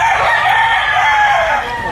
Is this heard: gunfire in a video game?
no